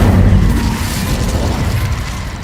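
A magical Incendio fire spell bursting to life, a loud low whooshing boom that roars at the start and then rumbles steadily before easing slightly.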